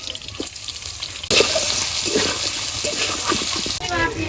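Chopped onion dropped into hot oil with cinnamon and cardamom bursts into a loud, steady sizzle that cuts in abruptly and continues close, with a voice faintly talking around it.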